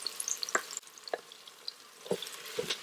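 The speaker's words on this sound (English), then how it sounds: "Cook the onions until they are golden brown." Onions fry in an Instant Pot until golden brown, with a steady bright sizzle crackling throughout and a few distinct clicks and scrapes of stirring spaced through the moment.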